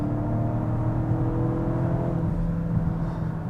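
A Volvo V60 Cross Country T6 wagon in Polestar engineered mode accelerates uphill, its exhaust a steady, held droning hum heard from inside the cabin.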